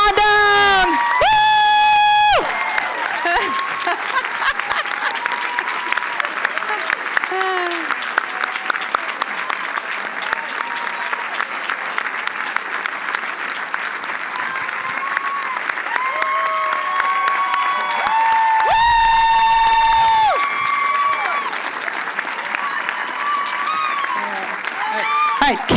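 An audience applauds a teacher being called up at an education symposium, sustained loud clapping with cheers and whoops throughout, bursts of electronic fanfare music near the start and around the middle.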